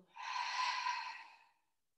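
A single open-mouthed exhale at the close of a yoga practice, a soft, airy breath released near the microphone that fades out after about a second and a half.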